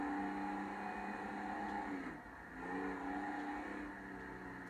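Steady engine drone of a Vapid Sandking SWB pickup cruising on road in a video game, with harmonic hum that dips briefly mid-clip then resumes at an even, continuous level.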